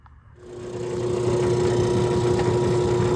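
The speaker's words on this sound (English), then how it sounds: "Hear that fluttering sound? It's in the motor." A Stoelting machine's motor with a worn rear bearing spins up after a brief quiet start, then runs as a steady, close, fluttering hum with a constant droning tone and no speech.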